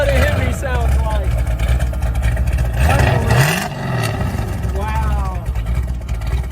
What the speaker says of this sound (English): That's what a Hemi sounds like.